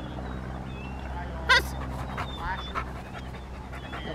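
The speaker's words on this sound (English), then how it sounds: "So that barking is what we call leaking." A single sharp bark from a Rottweiler in obedience training stands out midway, with soft whimpering and someone speaking quietly around it against a low hum.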